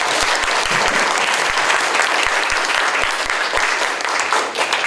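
A student audience at a Gwangju academic club report presentation gives loud, sustained applause, dense clapping from many people with a few sharp low thumps scattered through it.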